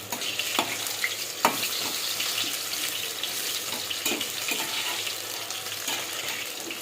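Pumpkin flower fritters frying in hot oil, a continuous close hiss and crackle with occasional sharp pops and light stirring scrapes, steady throughout.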